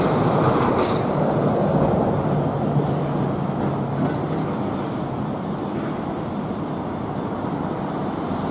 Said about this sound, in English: Fully loaded train.